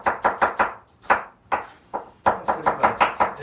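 Onions are chopped for a lentil and tomato soup, a knife striking a board in crisp, close knocks. Quick runs of even beats are broken by short pauses, then a final fast burst of chops.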